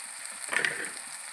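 Garam masala and coriander powder frying in a pan for gongura chicken, giving a soft, quiet sizzle with a brief stir or scrape in the middle.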